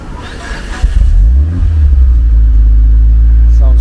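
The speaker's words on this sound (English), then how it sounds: "We got Devon's Evo 9 MR, about to give us a little cold start" Cold start of a Mitsubishi Lancer Evolution IX MR: the starter cranks briefly, then the engine catches with a loud rev flare that settles into a high, steady fast idle, heard up close.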